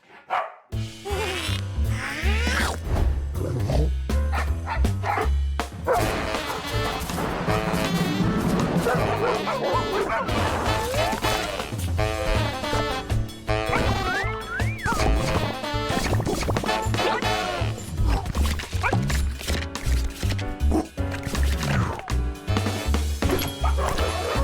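Dogs barking and yipping among crashes and thwacks in the video game Dogpile, a dense, busy mix of repeated barks and impacts running loud and continuous, with game music and effects throughout.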